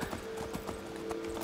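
Horse hooves clip-clop at a steady trot while riding in Skyrim, a rhythmic run of close, moderately loud hoofbeats over a constant tonal hum.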